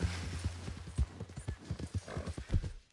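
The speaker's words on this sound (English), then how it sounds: "Look at my horse is amazing." Rhythmic hoof clip-clops from a horse at a steady trot in the video game Red Dead Redemption 2, fairly faint, with no talking.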